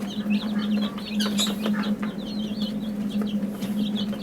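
A chicken clucks repeatedly and fairly close while being held for eye-and-nose drop vaccination, with soft irregular calls over a steady low hum.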